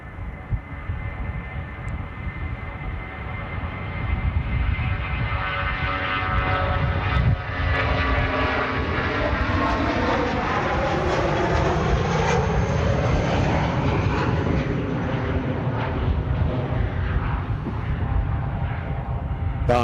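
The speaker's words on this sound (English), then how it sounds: "Another British Airways shuttle service rolling." British Airways shuttle airliner rolling for takeoff, its engine roar building to a loud sustained howl with rising whining tones, continuous and close, heard alone without talk.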